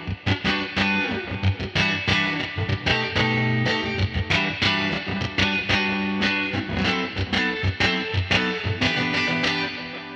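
An electric guitar plays a clean, heavily compressed tone with reverb in rapid, percussive picked notes and chords, loud and close with no talking.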